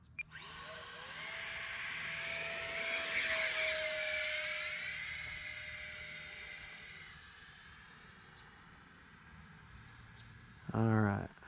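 An Eflite Habu RC electric jet whines overhead as it glides in to land, its high-pitched fan tone sliding down and fading as it slows, ending with a brief rattling burst near the end.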